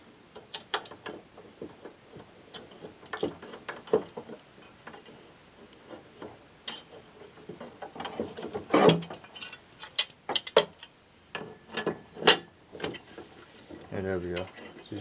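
Bolts being tightened while mounting a Honda GXV140 lawnmower engine to its deck: quiet, close ratcheting clicks in irregular bursts, with soft handling noises in between.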